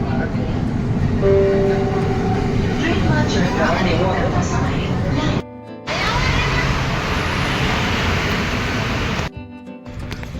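A metro train at a station gives a steady rumbling roar with a faint horn-like tone near the start. Background voices sound under it, and the sound cuts out briefly twice.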